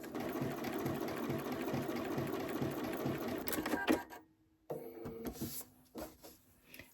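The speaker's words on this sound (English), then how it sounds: "whip it through your sewing machine" A sewing machine stitching quilt pieces runs in a loud, steady mechanical whir for about four seconds, then stops, followed by a few short bursts and handling clicks.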